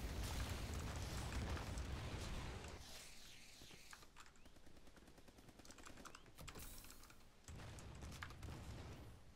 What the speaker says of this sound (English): Friendly airstrike inbound.